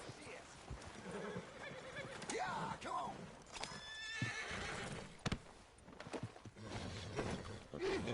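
Horse whinnies and clip-clopping hooves from the video game Red Dead Redemption 2, close and loud, mixed with shouting voices and scuffling as people talk over the commotion.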